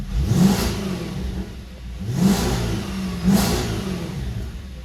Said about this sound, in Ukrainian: Звук, звісно, змінився. Якщо ми відкриваємо заслонки, у нас отримуємо прямий вихлоп